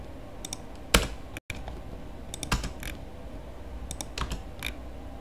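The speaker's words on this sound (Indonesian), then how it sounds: "nah tinggal enter saja" Enter key tapped a few times on a computer keyboard while tidying pasted text in a document, giving sharp isolated clicks spaced apart against a quiet room background, with no talking.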